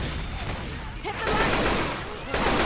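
Gunfire in the zombie shooter Left 4 Dead 2 rattles in loud, dense bursts with chaotic game noise in between, dense and close, while voices shout over the action.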